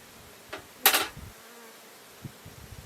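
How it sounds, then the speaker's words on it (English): Honeybees in a very full hive buzz close to the microphone, with one loud, brief buzz passing right by and fainter scattered hums around it under a quiet background. "this hive is so full of bees"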